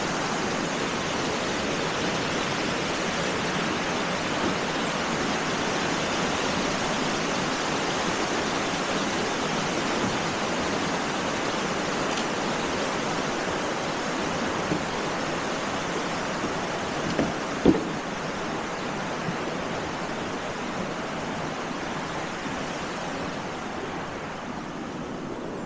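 River water rushes steadily beneath a footbridge in Sangti Valley, a constant broad wash of flowing water heard alone with only a brief faint knock partway through.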